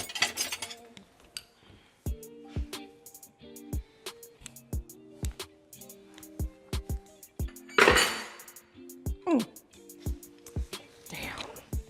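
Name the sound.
spoon clinking against a pan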